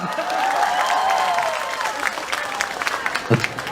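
An audience at an Islamic sermon gives a short round of clapping that fades into scattered claps, with voices and crowd murmur mixed in.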